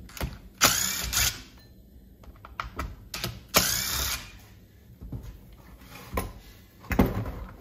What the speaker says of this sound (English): First thing I'm gonna do now is take the the handle off, just to make it easier